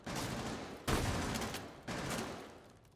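Gunfire from the video game Rainbow Six Siege comes in loud sustained bursts, with two sharp onsets of rapid shots that each trail off, and no talk over them.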